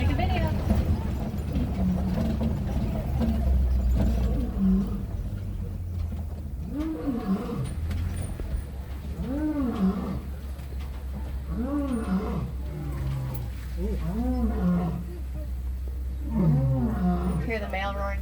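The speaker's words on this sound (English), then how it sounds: "Oh, she's roaring over here. Listen really carefully." A female lion at Kilimanjaro Safaris in Disney's Animal Kingdom lets out a rhythmic series of deep, grunting roars from a short distance, over a steady vehicle rumble with people talking at times.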